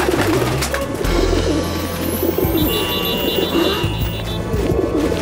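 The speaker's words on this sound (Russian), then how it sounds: "Голуби заполнили Париж." Cartoon pigeons crowd Paris, filling the air with dense, steady cooing over a busy background hum. The soft throaty calls overlap continuously throughout.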